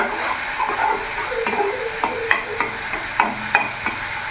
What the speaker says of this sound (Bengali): এবার সব কিছু মশলা আমি ভালো করে মিশিয়ে নেব।